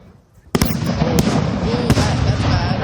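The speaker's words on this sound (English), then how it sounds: "the fireworks are meant to come this way, not that way" Fair fireworks burst after a quiet start: a sharp bang, then a steady crackling roar with further loud pops, heard from a crowd with people talking.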